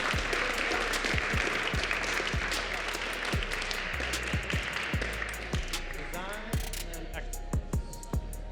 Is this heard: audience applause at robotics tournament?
yes